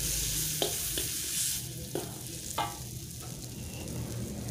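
Spice paste with a bay leaf and margarine stir-fried in a pan for Acehnese shrimp noodles, a steady soft sizzle with a few sharp scraping stirs of the utensil, close and moderately quiet.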